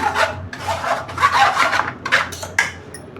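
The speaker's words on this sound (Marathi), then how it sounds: "अशी जाळी ठेवायची आणि आपण जे हे केलेलं आहे मिक्सरला ते सर्व गाळून घ्यायचं" Repeated scraping and rubbing strokes as blended paste is strained through a metal sieve, a rhythmic rasping back and forth, close up with no talking.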